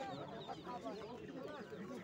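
Chickens at a poultry market cluck and squawk over one another, a busy overlapping chorus of hen calls heard close by for a couple of seconds.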